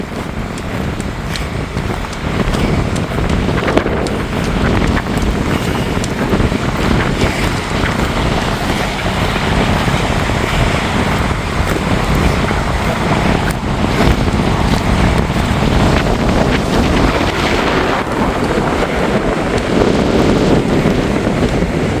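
Loud, relentless Hurricane Erin wind roars continuously with gusty buffeting and water rushing underneath, close and overwhelming from start to finish.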